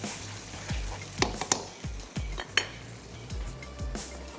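Tomato masala sizzles in a pan on the stove for a shakshuka, with a spoon scraping and clinking against the pan in repeated strokes over a steady frying hiss.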